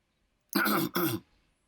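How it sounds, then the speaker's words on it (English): Someone clears their throat in two quick, forceful rasps, close and loud, followed by silence. "As I clear my throat."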